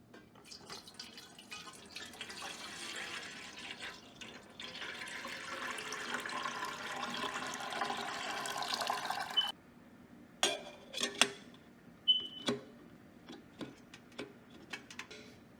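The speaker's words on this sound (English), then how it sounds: "Our water is boiling." A pot of water comes to the boil for making akam, Nigerian corn pap, with a dense bubbling hiss for several seconds. Sparse clicks and drips follow.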